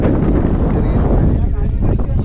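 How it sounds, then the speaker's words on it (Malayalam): Strong wind on a misty hilltop at Chittippara, roaring and buffeting the microphone continuously, with a voice talking underneath. "കാറ്റെന്ന് പറഞ്ഞാൽ ഒരു രക്ഷയില്ലാത്ത കാറ്റ്"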